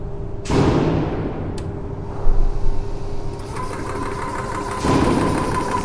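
A battery-powered portable PCP air compressor runs steadily and loudly nearby, with a constant mechanical drone and a few brief clunks and shifts in tone.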